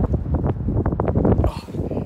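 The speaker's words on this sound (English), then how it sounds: "it's a bit breezy up there" Wind gusts on an exposed hilltop during a dog walk, a strong, close buffeting rumble across the microphone, rising and falling throughout.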